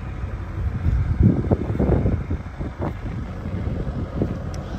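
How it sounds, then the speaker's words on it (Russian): Strong wind buffeting the microphone outdoors on a wet farm field being ploughed, low rumbling gusts swelling and fading continuously with no speech. "И сейчас очень ветрено на улице."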